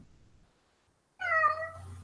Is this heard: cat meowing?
yes